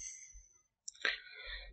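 A single mouse click on a download button, a faint short tick close by amid quiet room noise.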